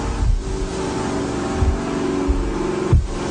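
An electric motor running on 110 volts, a loud continuous hum with steady tonal whine, punctuated by a few low thumps.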